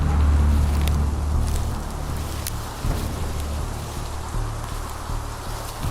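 Steady rain patters and hisses with a low rumble, loudest at the start, then a continuous wash without voices.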